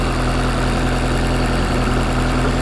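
Turbocharged 2ZZ engine in a Toyota Corolla T Sport idling loudly and steadily up close, a continuous dense rumble with faint rhythmic ticking and no pauses.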